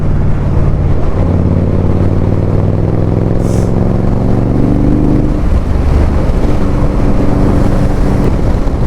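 An Indian Scout Bobber motorcycle rides steadily at quarter throttle through countryside, its engine droning loud and close, pitch climbing gently and dipping, wrapped in heavy wind rush.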